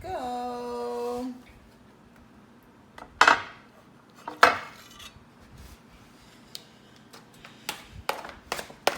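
Metal utensil scraping and clinking against a plate while lifting steamed parrot fish onto it, a few sharp close knocks and scrapes spaced out after a brief tonal sound at the start.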